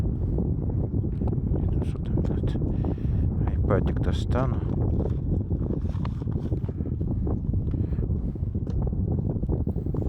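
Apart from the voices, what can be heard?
gusty wind on a mountain road in Oman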